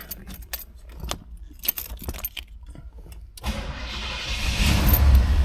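Keys jangle and clink near a 1975 Pontiac Grandville for a few seconds before the big engine cranks and catches, settling into a loud, building idle rumble close by.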